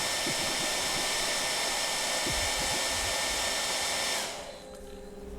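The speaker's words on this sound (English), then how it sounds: "how we can use the blow dryer" A blow dryer runs steadily on wet paint on a canvas, a loud constant whirring hiss that cuts off abruptly near the end, leaving quiet.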